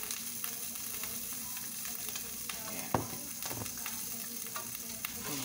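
An egg fries in a pan with a steady, close sizzle and crackle, broken once by a sharp utensil clink against the pan.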